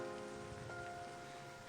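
Rain falls steadily in a Final Fantasy XIII cutscene at a ferry station, a soft continuous patter under a faint sustained musical tone.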